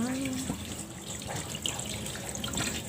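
Tap water runs steadily into a sink while fish are washed, a continuous mid-level splashing stream with light clinks, no talking.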